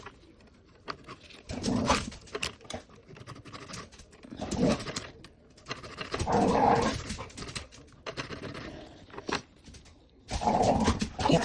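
Dogs moving about a small indoor room during acrylic nail filing, giving short bursts of low growling and snuffling sounds in several separate clusters, close by, with no talk over them.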